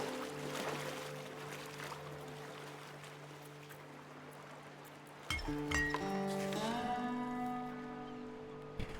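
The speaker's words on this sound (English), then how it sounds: "Let's paddle back home again." Paddling a boat across water in the game Flotsam, with a steady low watery bed under game music tones and light clinking chimes that swell midway through.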